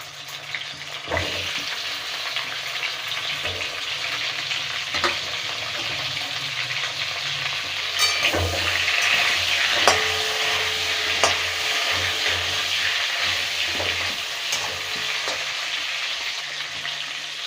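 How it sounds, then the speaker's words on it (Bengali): Pointed gourd (potol) frying in oil left from frying fish, a constant close sizzle with occasional clacks and stirring scrapes, running on without speech. "প্রথমে পটলটা ভেজে নেবো"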